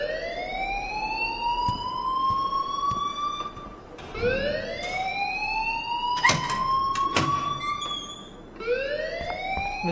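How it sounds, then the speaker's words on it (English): An alarm blares in the video game Life Is Strange, repeated rising electronic whoops with sharp clanging hits mixed in, loud and continuous with no talking. "please turn off that alarm since that's your job"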